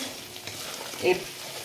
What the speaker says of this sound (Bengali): ভাজা হয়ে গেছে, পুরো তেল ছেড়ে দিয়েছে চারদিকে